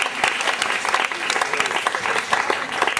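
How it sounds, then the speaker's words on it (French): Audience applause at a cultural gathering about the Méliès cinema project in Montreuil, dense steady clapping from a crowd for about three seconds with no voices over it. "On l'applaudit."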